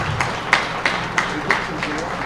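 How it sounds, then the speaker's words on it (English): A crowd at a high school baseball season celebration claps in a few scattered, rhythmic bursts over a low murmur, with the claps ringing out fairly close. "Let's have another big round of applause for the 2025 just over Yellow Jacket baseball season"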